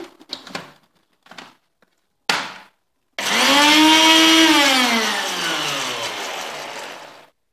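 A blender whirs loudly and steadily for about four seconds as it mixes homemade mayonnaise ingredients with vinegar. A few short clattering knocks and clicks come before it starts, and the motor pitch slowly drops as it runs.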